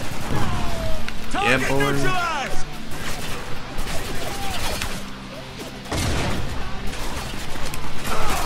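Heavy machine gun fire and explosions crack through a Spec Ops: The Line firefight, with bursts, booms and layered battle noise under excited shouting voices.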